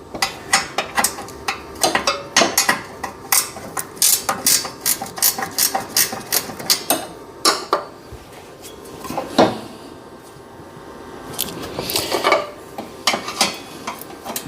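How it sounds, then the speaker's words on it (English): A 1/2-inch wrench works bolts off a cover on a Husqvarna MZ6128 mower, with repeated metallic clicks and clanks coming in uneven bursts close at hand, pausing briefly midway before more rapid clicking. "Oh, a 1/2-inch wrench will fit it."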